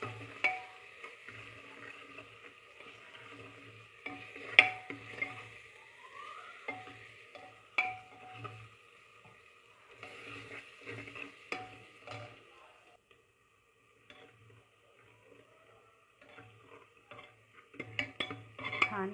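Ginger, garlic and onion frying in a pan for a village-style mutton rassa, with a faint low sizzle under soft stirring scrapes and occasional metal clinks of the spoon against the pan.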